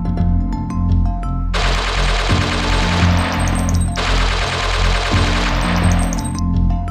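Aerial gunfire at a wedding celebration: loud, sustained rapid bursts of automatic fire in two long volleys over a dense, droning backdrop, close and continuous throughout.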